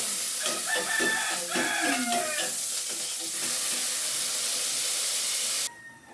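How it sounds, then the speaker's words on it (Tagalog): Fish stew ingredients for sinabawang dorado sizzling while being sautéed in a pan, a steady hiss of frying with stirring clatter and clinks near the start, ending abruptly. "Kaya ngayon ay sisimulan ko na mag-gisa"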